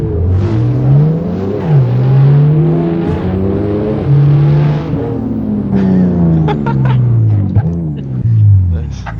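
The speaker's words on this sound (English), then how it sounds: "He's drifting again." A car drifting in Assetto Corsa during a police-versus-street-racers chase, its engine rising and falling through repeated revs and shifts, loud and close, with people talking over it.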